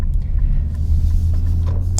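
A 2021 Infiniti Q60S Red Sport coupe with a 400 hp engine making a U-turn, its deep steady engine rumble droning close and continuous, no talk.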